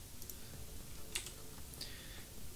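A few light keyboard key presses and a mouse click on a computer, soft, close and brief clicks spaced out over a quiet room.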